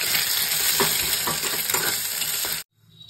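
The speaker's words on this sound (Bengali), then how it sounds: "ডিমটাকে ভেজে তুলে নেব।" An egg frying in a little oil in a wok, giving a loud, dense sizzle with a few spatula scrapes close by before it abruptly cuts to near silence.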